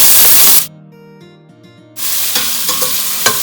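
Chopped onion hitting hot oil in a pan with cumin seeds and peppercorns for masoor pulao: a loud sizzle, a brief quieter gap with faint tones, then renewed crackling fry and stirring scrapes close by.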